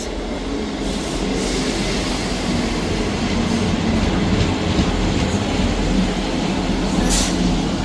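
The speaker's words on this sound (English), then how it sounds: "Arriving in now is the 11:51 ScotRail service from Leven to Edinburgh Waverley." A ScotRail service from Leven to Edinburgh Waverley pulling into Edinburgh Gateway station, a loud, steady rumble of wheels and carriages with faint high squeals, continuous and close, with no talking.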